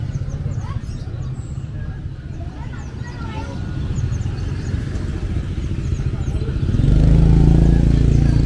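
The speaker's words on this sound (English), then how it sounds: "There are a lot of scooters passing by this road." Scooter engines drone along a road beside an animal market in Indonesia, a louder one swelling up toward the end, with faint voices and birds in the background.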